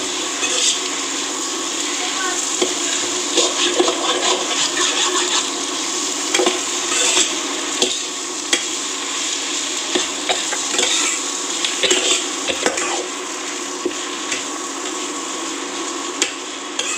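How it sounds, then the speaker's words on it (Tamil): Torn parotta stir-fried in a hot pan for kothu parotta, with steady sizzling and repeated metal-on-pan scraping and tapping that runs throughout at a moderate, busy level. "இப்போ பிச்சு வச்ச பரோட்டா ரெண்டு இதில் சேர்த்துக்கலாம்."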